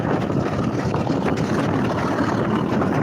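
A boat engine runs at full throttle, a loud, steady, broadband roar with wind buffeting throughout and no letup.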